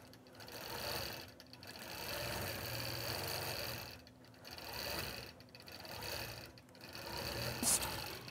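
A sewing machine stitches continuously along a small red quilt border, a steady fast mechanical whir and clatter in several surging runs separated by brief pauses, fairly faint and close.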